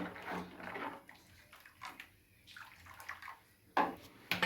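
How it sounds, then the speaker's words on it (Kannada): Water pours and splashes into a pot of sambar in a home kitchen, a soft running gush with a few sharp clinks from the vessel. "ಇವಾಗ ನೀರು ಹಾಕೊತಾ ಇದ್ದೀನಿ."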